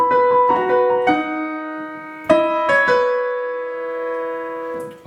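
Piano plays the opening bar of a song intro, a bright run of struck notes and chords that ring and sustain, close and alone.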